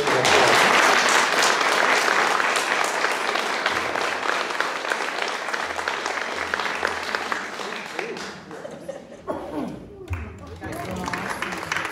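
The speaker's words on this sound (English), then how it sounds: "let's give them all a big round of applause." An audience breaks into loud, sustained applause that gradually thins out and fades after several seconds.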